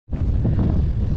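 Strong wind gusting across the microphone on a cold hilltop at Palakkayam Thattu, a brief loud rumbling buffet that starts abruptly and holds steady, with no voices.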